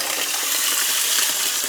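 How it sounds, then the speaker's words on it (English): Water churning and gushing in a backed-up kitchen sink drain as it is plunged, a continuous splashing, sloshing rush close by with no talk over it. "I'm gonna try to hit that with a plunger."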